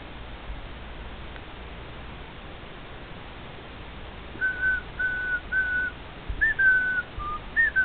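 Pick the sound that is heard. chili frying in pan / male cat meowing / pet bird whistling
pet bird whistling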